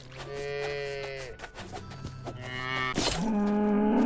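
Cows in the medieval fantasy game Cozy Keep give several long, drawn-out moos, one after another and partly overlapping, close and clear over quiet game ambience, with no talking.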